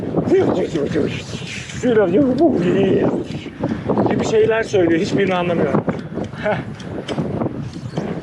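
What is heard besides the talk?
strong wind by Lake Burdur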